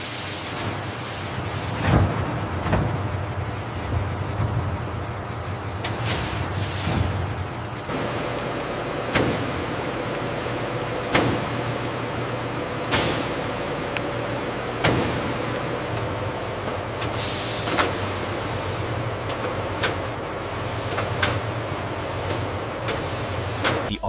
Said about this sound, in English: Automated guided vehicles deliver the smoke-brown BJ-77 strips, initiating the controlled drying process crucial for perfect texture.